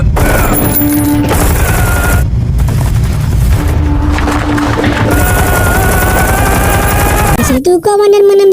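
Gunfire from a sniper movie scene: a dense, loud, sustained stretch of shooting and booms mixed with music and effects, continuous throughout with a short break near the end.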